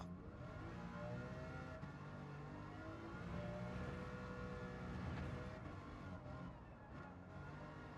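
A race car engine revs steadily in Gran Turismo 7, a continuous droning roar with shifting pitch that holds at a fairly even loudness throughout.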